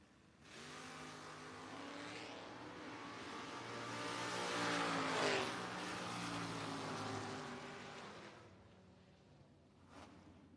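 Camaros launch and rev at a drag strip during an Independence Showdown race, a loud sustained engine roar that builds and then fades as the cars pull away, with no talk over it.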